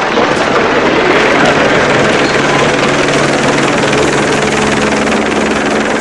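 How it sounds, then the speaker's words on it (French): A news helicopter flies overhead, giving a loud, dense, unbroken rumble of rotor and engine noise that holds steady throughout. "Ce n'est qu'un hélicoptère des actualités."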